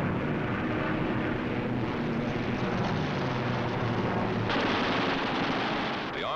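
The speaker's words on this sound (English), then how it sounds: "a camera and eight machine guns are put into action" A fighter plane's eight wing-mounted machine guns firing from the cockpit in an aerial combat over wartime skies, a dense, continuous roar of rapid gunfire and engine noise throughout, loud and close.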